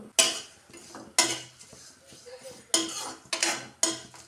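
Flattened rice (chira) being dry-fried in a metal pan, heard as repeated sharp scraping clanks of a spatula against the pan in uneven bursts, close and fairly loud, with faint rustling between strokes.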